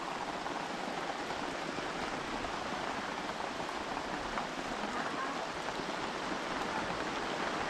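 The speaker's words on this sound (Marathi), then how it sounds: "मोठा झाला पाऊस" Heavy rain pours steadily over a paddy farm field, a dense, continuous hiss that stays loud and even with no pauses.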